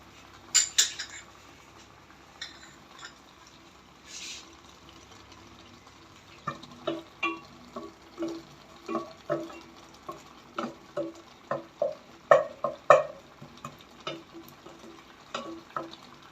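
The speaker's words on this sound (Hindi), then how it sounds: "ये मसाला फ्राई होना शुरू हो गया है।" Masala with garlic and onion frying in a pan: a faint, low sizzle at first, then a series of distinct clinks and scrapes of a utensil, irregular and close, with no voices.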